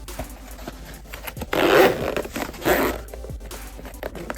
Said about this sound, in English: the zippers are really cheap in terms of getting stuck and whatnot